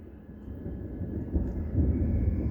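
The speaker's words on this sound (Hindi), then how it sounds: "बादल गरज रहे हैं भैया।" Low, steady rumble of thunder rolling from storm clouds, swelling slightly louder toward the end, outdoors at night in Delhi with no voices.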